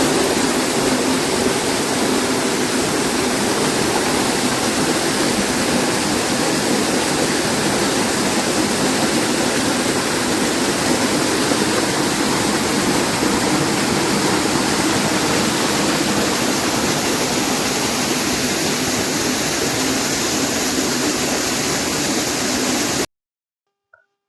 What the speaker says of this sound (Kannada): ಈ ಗಣಪತಿಯ ಶಿರೋಭಾಗದ ಮೇಲೆ ನೀರು ಬೀಳುತ್ತಲೇ ಇರುತ್ತದೆ